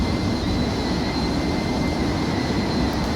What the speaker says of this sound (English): I'm gonna have to find some better sounds, especially some better engine sounds.